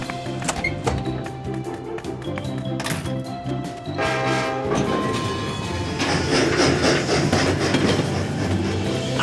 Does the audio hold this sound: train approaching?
yes